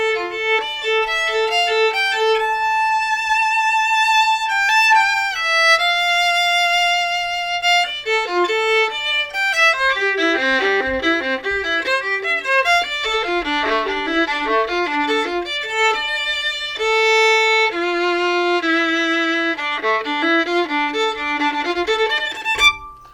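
Melody section on a clear, sustained lead instrument, held notes giving way to quick flowing runs over about twenty seconds, close and steady with no voices.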